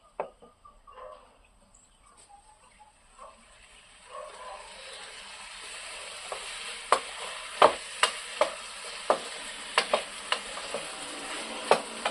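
Sliced mushrooms, about 400 grams, sautéed and stirred in a pan for a mushroom gravy, giving a soft sizzle that builds into a series of sharp scraping and tapping stirs close by, with no talking.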